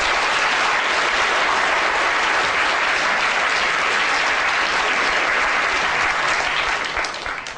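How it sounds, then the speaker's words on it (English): A lecture audience breaks into sustained applause, steady and dense clapping that fills the room for several seconds before tapering off at the end, with no voices over it. "Round of applause for Esme."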